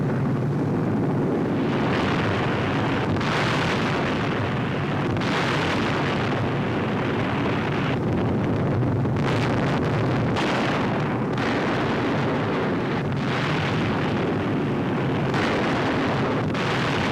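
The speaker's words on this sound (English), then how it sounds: "Remarkable pictures of the RAF bombing the Nazis in broad daylight." Bombs bursting during an RAF daylight bombing raid on a large radio plant make a loud, continuous roar of blasts and rumbling, with repeated heavier bursts rising out of the din throughout. No voices are heard.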